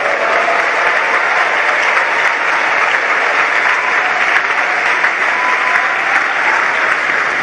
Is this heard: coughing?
no